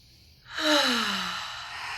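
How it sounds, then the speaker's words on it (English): A single deep, slow exhale, a close, breathy rush of air that swells quickly and then trails off gradually over about a second and a half. "How about we share another deep breath?"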